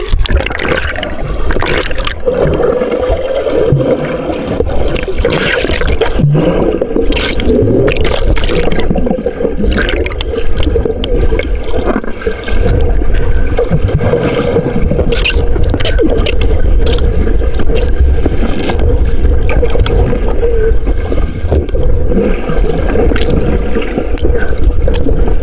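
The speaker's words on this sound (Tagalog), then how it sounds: "Patuloy kaming lumalangoy." Steady, loud rushing of water in a clear river where people swim and splash, a continuous wash with occasional splashy bursts and no clear talk.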